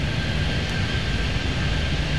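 A jet in the airport game Airport Madness 3D rolls for takeoff, a dense, steady engine roar with a thin high whine, even and continuous throughout.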